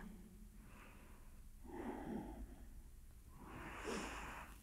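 A person breathes slowly during a gentle home yoga session, with soft, audible inhales and exhales in a few unhurried breaths, close and quiet, with no talking.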